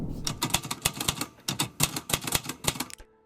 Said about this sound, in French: je commence par mettre des bandes de scotch qui permettent d'éviter qu'il y ait des traces un peu partout